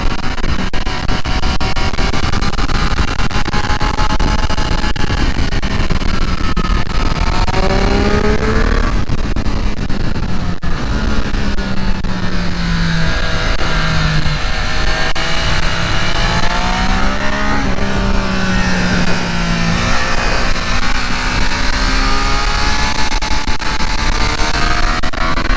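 Triumph Street Triple 765 RS motorcycle accelerating hard around Interlagos circuit, engine note repeatedly climbing through gears and dropping on shifts, loud and continuous with heavy wind rush for the whole stretch.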